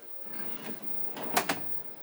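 A motorhome drawer slides and bumps shut with a couple of quick knocks, fairly quiet against a soft background hiss.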